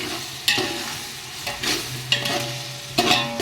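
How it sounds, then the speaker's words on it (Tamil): Green chillies and tomatoes sauté in a pan for chicken biryani, a steady sizzle broken by four sharp spatula scrapes and stirs spaced about a second apart, close and alone. "இதில் நாம் பச்சை மிளகா, தக்காளி இதெல்லாம் இதையும் சேர்த்து நல்லா வதக்கிக்கலாம்"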